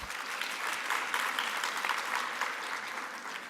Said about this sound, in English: Let's give yourself a good round of applause.